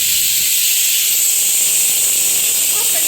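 A pressure cooker cooking soaked lentils lets out a loud, sustained steam whistle, a harsh, close hiss that holds steady for about three seconds before stopping sharply.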